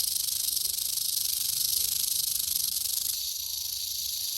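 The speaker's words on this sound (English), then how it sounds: "Look at the size of that rattle and look at it shake." A large rattlesnake shakes its rattle in a steady, continuous dry buzz that stays close and loud for several seconds, easing slightly near the end, with no voices over it.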